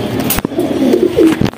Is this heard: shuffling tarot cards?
no